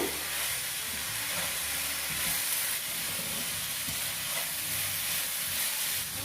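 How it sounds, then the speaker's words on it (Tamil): Jaggery, grated coconut and crushed cardamom stirred together in a pan over low heat, giving a continuous soft sizzle and hiss with faint scraping underneath, close and steady throughout. "இப்ப எல்லாத்தையும் ஒன்று சேர கிளறி கொடுங்க."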